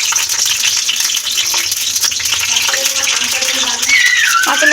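Green chillies fry in hot oil in a wok, a steady close sizzle crackling throughout with a few faint clinks and a brief voice near the end.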